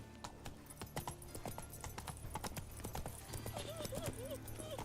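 Hooves of Roach, a horse in The Witcher video game, beat in a quick, steady clip-clop gallop, close and continuous, with a brief neigh-like call and a faint game voice underneath.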